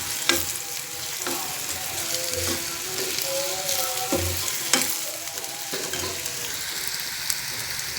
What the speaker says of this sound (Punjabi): ਆਪਾਂ ਚੰਗੀ ਤਰ੍ਹਾਂ ਫਰਾਈ ਕਰਦੇ ਹਾਂ